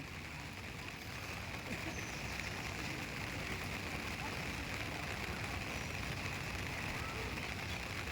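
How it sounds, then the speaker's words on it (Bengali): A steady drizzle of rain falls without pause, making a constant, even hiss for the whole stretch with no breaks or distinct drops. "ঝিমঝিম করে বৃষ্টি হয়েই যাচ্ছে।"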